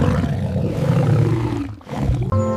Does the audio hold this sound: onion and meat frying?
no